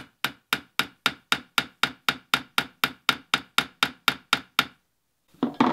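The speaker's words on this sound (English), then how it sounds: "And then we just tap this down." Sixteen crisp, evenly paced taps of a rivet setter striking a solid brass rivet through leather for a satchel, close and loud, followed by a brief rustle after the hammering stops.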